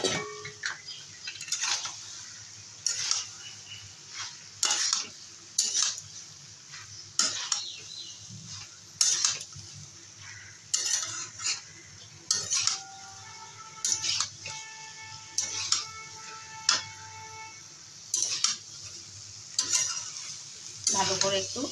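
Soybean chunks and cauliflower frying in a pan while being stirred, a soft steady sizzle broken by regular scraping and clinking of a metal spatula against the pan, close and fairly quiet, no talking.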